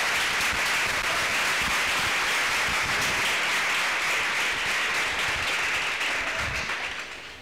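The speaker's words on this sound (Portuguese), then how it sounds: "Com aplauso, então, a gente recebe a Márcia e o Laerte." An audience at a theatre school event in São Paulo gives long, sustained applause welcoming two speakers to the stage, a dense wash of many hands clapping that fades slightly at the end.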